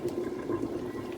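Warm water pours into a cooking pot while making bitter leaf soup, a steady close splashing trickle with no talk.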